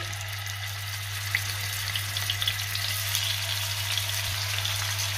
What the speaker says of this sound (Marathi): तेल गरम झालंय, आपण यावरती हे फिश ठेवूया।